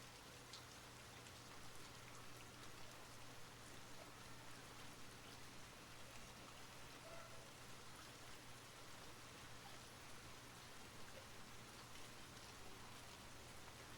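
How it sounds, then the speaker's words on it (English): Steady rain falling on a surface, a dense continuous hiss of drops with a low hum beneath, playing evenly throughout with no talking. "Can I keep the rain noise switch over to the study lo-fi?"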